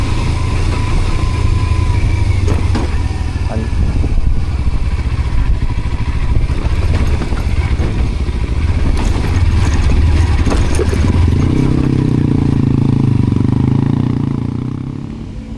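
A motorcycle engine drones steadily at close range while riding a rough, bumpy road in Flores, with rattling and clatter over the engine note before it eases off at the end.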